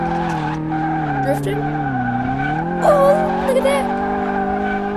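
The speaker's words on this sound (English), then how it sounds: "I'm drifting" A drifting car in Car Mechanic Simulator holds a loud, steady engine whine with rising and falling tire skids, and a voice speaks briefly over the squealing.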